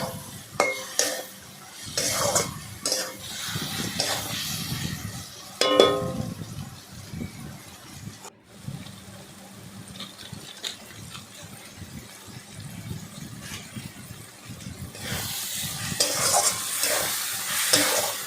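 Stirring and frying in a pan while cooking lote fish curry with ridge gourd: a steady sizzle runs throughout, broken by repeated scraping and clinking strokes of a utensil against the pan, close and fairly loud.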